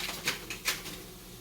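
A few scraping, crackly crunches of icy frozen lasagna being mashed in a pan, quiet and close, with brief bursts between softer rustling.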